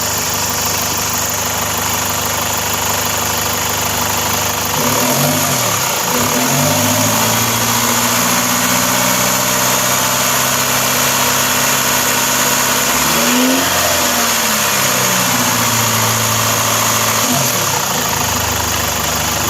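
A Chevrolet Captiva engine runs close up, held at a steady RPM with a constant mechanical drone, broken by a few brief dips and wavers in pitch where the revs shift momentarily before settling back.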